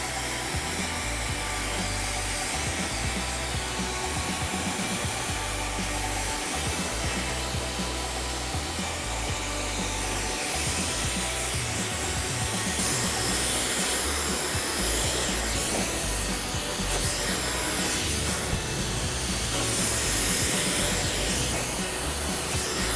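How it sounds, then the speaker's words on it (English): A hair dryer blasts continuously at close range while drying a woman's hair, a loud steady roaring whoosh with slight fluctuations as it moves, with no speech. "So I'm going to blast dry it to start off."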